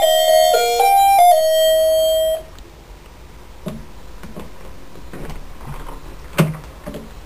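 A doorbell chimes at home with a clear melodic ding-dong tone for about two seconds, followed by quieter knocks and taps from a heavy door nearby.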